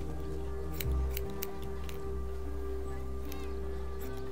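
Scissors snip a few times in The Walking Dead: Definitive Edition video game, soft crisp clicks over a steady low ambient hum and background music bed.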